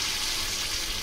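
Marinated chicken 65 pieces deep-frying in oil over low to medium heat give off a continuous, even sizzling hiss with no voices.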